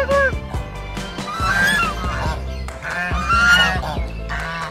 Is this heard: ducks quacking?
yes